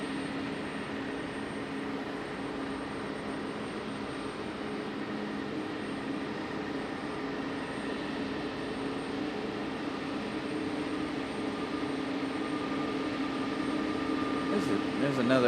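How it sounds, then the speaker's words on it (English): Delta Airbus A220 jet at Raleigh-Durham International Airport, a steady broadband roar with a constant hum that slowly grows louder toward the end, with people talking now and then. "There's another A220 Delta. I thought I heard another A220 over here."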